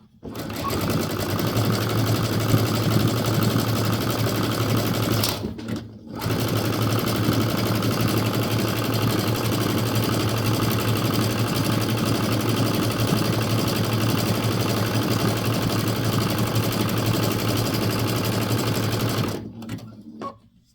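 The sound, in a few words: sewing machine zigzag stitching craft twine bowl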